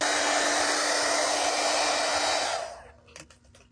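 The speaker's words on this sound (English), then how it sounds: "So let's go ahead and dry this real quick." A hair dryer blows steadily on fabric paint, a loud continuous whoosh with a hum that runs for about two and a half seconds, then shuts off, leaving faint handling clicks.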